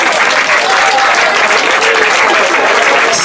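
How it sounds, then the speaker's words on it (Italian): Audience applause at the women's podium ceremony of a road running race, a dense, steady clapping from a crowd sustained loudly throughout with no pauses. "forza con l'applauso, Raffaella Filannino dell'Atletica di sfida"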